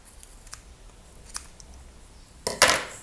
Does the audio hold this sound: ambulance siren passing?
no